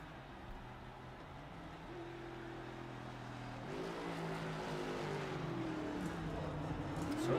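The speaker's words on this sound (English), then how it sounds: "there's some more burnouts on the front stretch here in that number 61 machine" Race car burnouts on the front stretch at Dover in a racing video game, a steady droning engine with rising and falling revving tones, building louder toward the end, with no talking.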